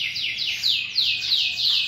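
Small birds chirp while being fed at home, giving a rapid series of repeated high, sweeping tweets in a close, lively run of about seven calls.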